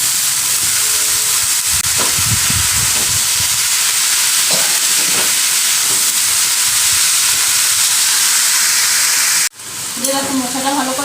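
Banana flower and potatoes frying with tomatoes in a pan, a loud continuous sizzle and hiss with clattering stirring scrapes, cutting off sharply near the end before a quieter sizzle resumes.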